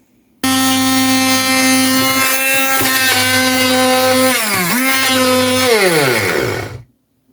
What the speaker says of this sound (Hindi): तो बाकी जो पुदीना है इसको हम ऐसे ही ग्राइंड करेंगे।